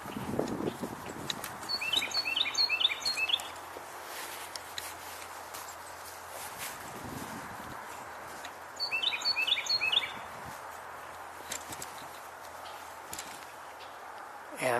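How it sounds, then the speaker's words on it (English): Red-winged blackbirds call from a marsh-side garden on a November outing, in two short bursts of repeated chirps and trills set at a moderate distance over steady low ambient rumble. "And I'm hearing red-winged blackbirds."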